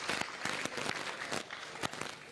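A welcoming round of applause at a youth gathering, fairly quiet, with sparse, separate claps rising and falling over about two seconds.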